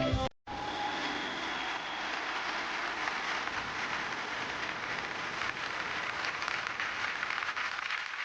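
A television music competition audience breaks into loud sustained applause after a performance, dense steady clapping that follows a brief cut and continues without letup.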